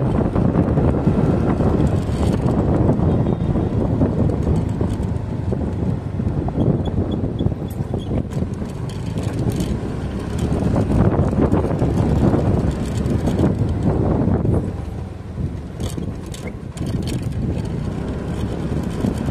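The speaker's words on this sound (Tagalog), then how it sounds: "Napakalakas yung hangin." Strong wind roaring past a rider on a motorcycle traveling an expressway toward Lucena, a loud continuous rushing buffet with engine and road rumble underneath, steady for the whole stretch with a brief lull near the end.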